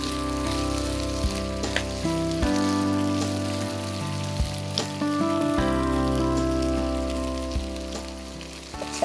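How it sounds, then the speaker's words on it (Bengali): Vegetables frying in a pan for a jackfruit and prawn stew give a steady, close sizzle with occasional spatter pops over a droning tonal hum, with no talking. "দেখো সবজিটা অনেকটাই ভাজা ভাজা হয়ে এসছে"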